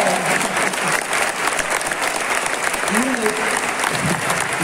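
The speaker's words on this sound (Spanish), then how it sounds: "Y sí, un aplauso, por favor." A crowd claps in steady, dense applause throughout at a book presentation by someone, with a voice briefly heard beneath the clapping.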